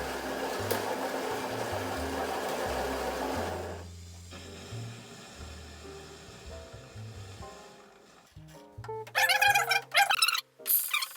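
A Philips LatteGo 3347/90 espresso machine brews coffee, with a loud grinding hum that gives way to quieter pumping, then sharp hissing spurts near the end.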